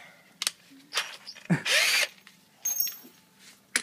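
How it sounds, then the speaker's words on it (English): A power drill whirs in short bursts drilling a hole in metal for a car's rear bumper tab, with one longer loud spin, between clicks and clanks of handling tools nearby. "So we drilled the other tab, or the hole into the metal."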